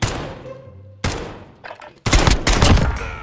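Loud Call of Duty gunfire rings out close up in rapid bursts, with several sharp single shots and then a dense stretch of automatic fire that overlaps and echoes.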